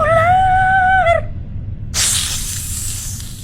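A white snake in a horror cartoon lets out a sharp, loud hiss that follows a brief tonal cry, a close, airy burst that holds steady for more than a second.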